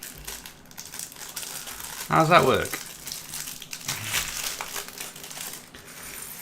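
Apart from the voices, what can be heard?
plastic bag crinkling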